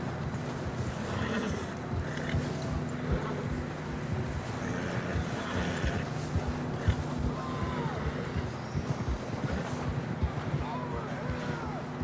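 Horses gallop through Red Dead Redemption 2 with steady, continuous hoofbeats, and several whinnies and neighs rise above the rhythm, backed by wind noise and background game voices.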